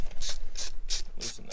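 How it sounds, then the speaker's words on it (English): A ratchet wrench loosening the 7mm intake hose clamps on a 3.5L EcoBoost F-150 engine, giving five evenly spaced bursts of crisp, close-up ratcheting clicks with short pauses between them. "first thing we're going to do is just remove these clamps"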